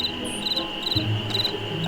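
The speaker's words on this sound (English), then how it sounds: "So this is the crickets." Crickets chirp in the night setting of the video game Nancy Drew: Ghost Dogs of Moon Lake, a steady high trilling in repeated pulses over constant background hiss, close and fairly loud, with no talking.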